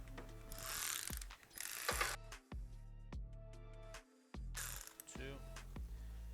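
A ratchet works loose the two 10mm bracket bolts on a 2011 Honda Pilot during alternator replacement: close, rapid clicking bursts separated by short pauses, with no talking.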